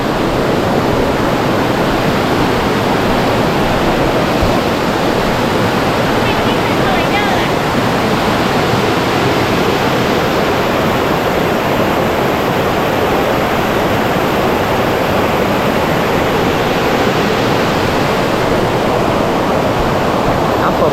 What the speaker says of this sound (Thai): มีน้ำแรงอยู่ น้ำตกลานลักนะครับ